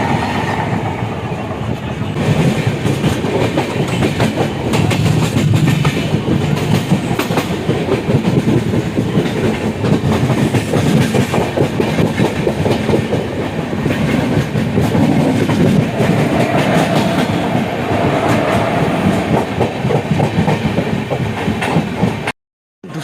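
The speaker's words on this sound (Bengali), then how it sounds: "এটা ধৌলি এক্সপ্রেস, সাবলাইনার ধৌলি এক্সপ্রেস।" Dhauli Express passenger train running steadily on the line toward Bhadrak, a continuous loud rumble with rhythmic clickety-clack of wheels over rail joints heard from on board, ending abruptly near the close.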